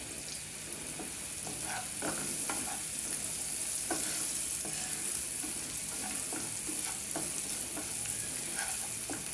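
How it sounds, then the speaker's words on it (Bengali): Leafy greens grown on a rooftop cook in a pan under a constant soft sizzle. A utensil stirs them now and then with light scrapes and taps. "সেই শাক রান্না করতেছি এখন"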